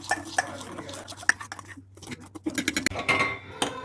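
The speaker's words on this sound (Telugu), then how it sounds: "చాలా మంచిగా మిక్స్ చేయాలంతా." A spoon stirs Weikfield raspberry jelly crystals mix in a vessel, giving close, irregular clinks and scrapes against the sides with brief quiet gaps between strokes.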